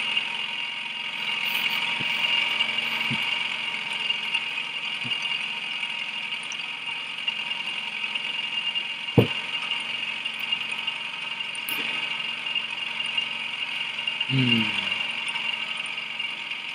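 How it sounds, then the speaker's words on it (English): Paddle-wheel boat engine in Bendy and the Ink Machine, a continuous mechanical rattle and whir with occasional clanks and knocks over the steady drone. "Sounds like something's stuck in the paddle wheel."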